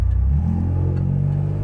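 A Pontiac Firebird's General Motors 3.8 liter V6 revs through a no-name aftermarket exhaust, a loud, close, throaty drone that rises and holds with a slight rasp.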